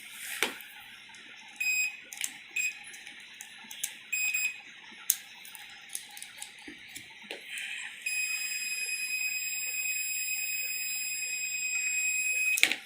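A multimeter in continuity buzzer mode touched across the two pins of a thermistor in an ATX computer power supply under repair, giving a steady high electronic tone that sounds continuously for several seconds after earlier short beeps and clicks.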